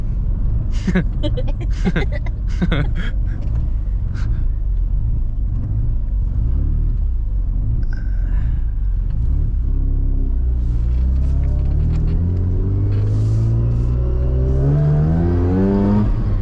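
A 1987 Mazda FC RX-7 on a test run, heard from onboard: a loud, deep engine rumble that rises into revving toward the end, with some talking early on.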